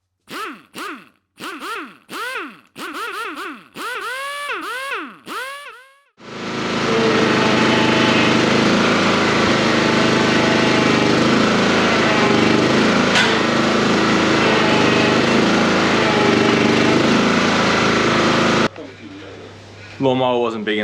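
A lawnmower engine sounds a string of short rising and falling revs, then settles into a loud, steady roar close by for about twelve seconds before cutting off abruptly.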